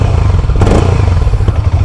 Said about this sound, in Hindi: हल्की सी एग्जॉस्ट नोट सुन लो।